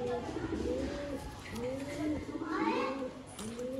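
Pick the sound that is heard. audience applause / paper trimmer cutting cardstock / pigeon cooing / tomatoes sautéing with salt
pigeon cooing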